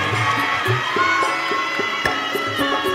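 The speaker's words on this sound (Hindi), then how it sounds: "एक बार जोरदार तालियां।" A large crowd at a Shiv Mahapuran religious discourse in Sehore, Madhya Pradesh, breaks into dense, continuous applause and cheering for a few seconds.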